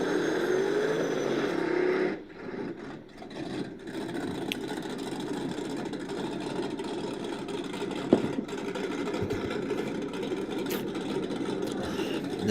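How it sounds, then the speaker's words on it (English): Small-block V8 in a Chevrolet Camaro drag car at a no-prep race, a steady loud engine rumble with a sharper pop near the middle, heard alone without talk. "Sound like we got a nice poppy small block."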